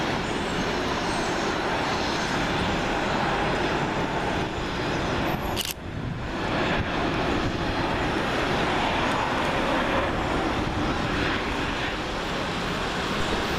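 Boeing 737 MAX 8-200 jet arriving on runway 23R at Manchester Airport, a steady broad roar that holds loud throughout with a brief sharp click partway through.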